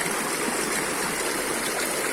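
A solar-powered motor turns a paddlewheel that churns water in a fish farm raceway pond, a continuous dense rushing and splashing roar, steady and close with no pauses.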